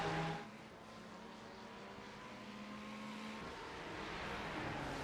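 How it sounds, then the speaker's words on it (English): A line of race cars drones around Daytona in a racing video game, with a steady engine hum that stays fairly faint and constant, one engine note falling away early on. "As you can see, nice train of cars."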